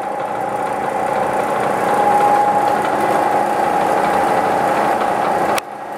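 A Bridgeport Series I two-axis CNC mill with an Acu-Rite Millpower 2 control traverses between points of a round bolt hole pattern, a steady motor whine and hum that cuts off abruptly near the end.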